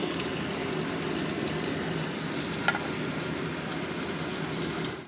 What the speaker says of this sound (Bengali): তো বন্ধুরা আমি এখন আলু ভাজা করছি।